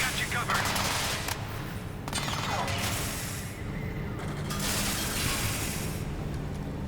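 Sustained automatic gunfire from a Crysis 3 firefight, rapid bursts layered with mechanical clatter and a steady low hum, with voices talking over the shooting throughout.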